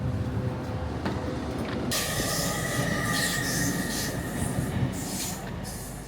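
A train pulls into Bristol Parkway railway station, a steady rumbling roll of wheels on track with a sharp squealing brake hiss rising partway through and holding loud to the end.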